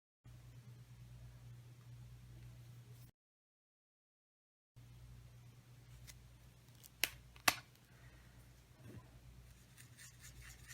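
Scissors cut out paper pieces for a shaker card, a few faint snips and crisp clicks over a steady low hum, with a silent gap partway through.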